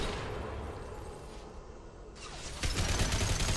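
Gunfire in Mass Effect breaks out in a noisy, dense barrage with a dip in the middle, then swells into a louder volley near the end.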